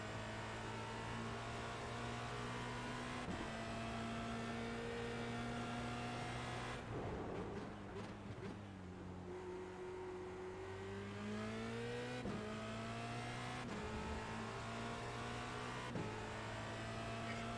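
A Formula Renault 2.0 race car engine on the Hockenheimring in iRacing drones steadily at high revs, drops briefly through gear changes and a slowdown midway, then climbs back up to a sustained whine.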